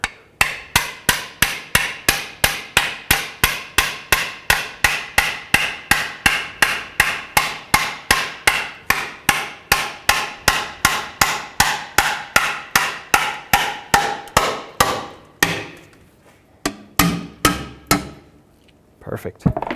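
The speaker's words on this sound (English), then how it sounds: "use a hammer and try to push the pry bar in there" Rapid, steady metallic hammer blows on a pry bar being driven in to remove the oil pan of a 2002-06 Toyota Camry, about three per second for fifteen seconds, loud and close, then a few scattered knocks and scraping.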